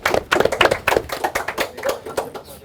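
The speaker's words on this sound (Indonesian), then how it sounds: "Tepuk tangan semuanya." Several hands clap in a brief round of applause at an HSS 7 Redemption fighting event: quick, uneven claps that are close and moderately loud, with a little background voice.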